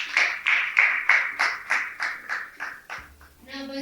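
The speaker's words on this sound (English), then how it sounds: "May I give them the round of applause." Hands clap at a school debate in a steady, even rhythm of about a dozen sharp claps that fade toward the end, and a voice starts just as they stop.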